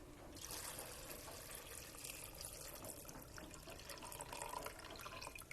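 Water runs and splashes steadily into a pot of dry beans for several seconds, a close, continuous pouring sound with no talk.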